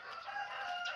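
Chickens in a large coop on a small Thai farm give a brief, faint burst of crowing and clucking.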